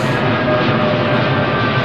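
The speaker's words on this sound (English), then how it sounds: "Oh, it's a 747-800" Air China Boeing 747-8 jet engines roar steadily and loudly as the aircraft passes at London Heathrow, a dense continuous rumble and whine without voices.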